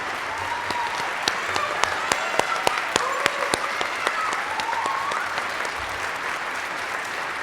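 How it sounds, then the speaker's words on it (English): A spring concert audience applauds itself, steady sustained clapping with sharp individual claps popping out near the front and faint voices and whistles threaded through the crowd noise. "give yourselves another round of applause for being here today"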